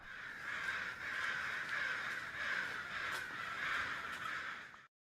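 Many crows caw together in a dense, continuous chorus as a large flock passes over a raging battlefield in the WARSIM video game, loud and steady until it cuts off abruptly.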